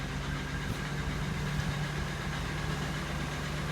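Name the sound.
1997 Oldsmobile Cutlass Supreme engine idling, cylinder 6 misfiring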